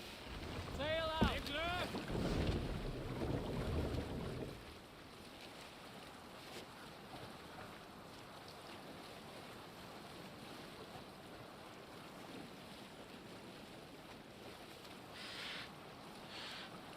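Viking longship under sail at sea in Assassin's Creed Valhalla, soft wind and water wash continuing steadily after a loud opening burst of shouting and horn-like calls.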